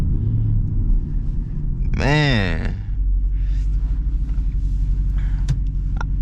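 A straight-piped SRT Jeep's exhaust rumbles low and steady while driving, with a brief rising rev swell partway through, under someone talking close by.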